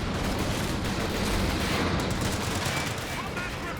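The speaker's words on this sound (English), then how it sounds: "Some major artillery coming down" Rapid fusillade of small-arms fire mixed with heavy artillery impacts in a Company of Heroes 2 two-versus-two match, continuous and loud for the whole stretch.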